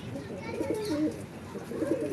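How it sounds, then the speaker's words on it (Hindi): Racing pigeons coo in soft, repeated low throaty calls close by, with faint voices murmuring in the background. "ये हैं कबूतर हमारे"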